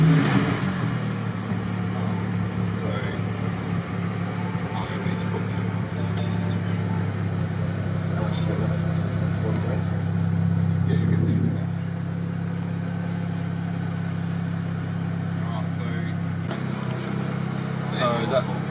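A new car's engine running steadily at idle for the full stretch, a low continuous hum with a brief rise in revs around the middle, while a voice talks over it.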